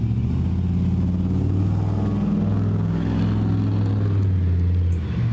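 A truck engine rumbles loudly as it accelerates past, a steady deep drone that holds strong for several seconds before easing off slightly at the end.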